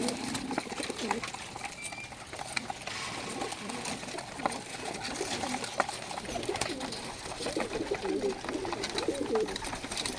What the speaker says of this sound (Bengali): দেখুন কবুতর খাবার খাচ্ছে